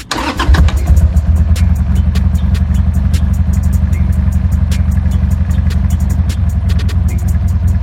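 An engine cranks and catches after a couple of pumps of fuel with the gearbox in neutral, then settles into a loud, steady, close running idle with light rhythmic ticking.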